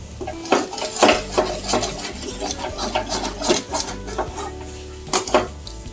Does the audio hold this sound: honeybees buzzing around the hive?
no